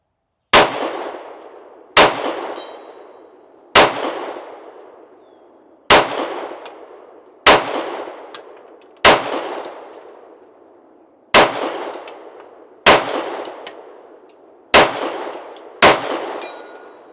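Pistol rounds of Blazer Brass 124-grain ammunition strike steel targets, sending out nine sharp metallic clangs spaced one to two seconds apart, each ringing and decaying before the next, loud and close with no talk.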